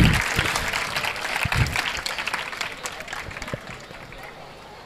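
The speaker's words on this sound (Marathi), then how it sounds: "जोरदार साहेबांसाठी टाळ्या वाजवा" An audience at a student function claps loudly for a guest, dense applause at full strength that gradually thins and fades over a few seconds.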